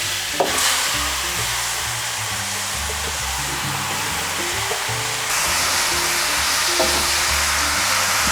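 Chicken pieces fry in hot curry oil in a pot, giving a loud, steady sizzle that swells louder partway through, with faint stirring and clinks and no talking.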